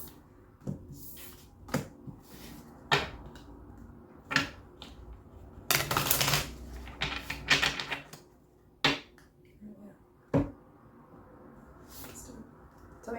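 A tarot card deck is shuffled up close: scattered sharp taps and clicks, then a louder rush of riffling cards in the middle, followed by a few more isolated taps against a quiet background.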